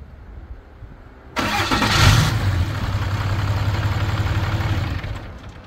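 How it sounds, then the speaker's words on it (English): A Cummins 6.7 diesel engine, powered by a supercapacitor jump pack, cranks briefly and fires up with a loud surge, then settles into a steady, rumbling idle nearby. "Was indeed enough power to fire the Cummins right up, even after giving the glow plugs a little bit of time to warm up."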